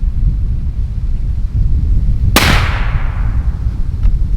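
A single loud, sharp gunshot fired outdoors through a GSL Bushman 30 cal hunting suppressor, a sudden crack followed by a rolling, fading tail.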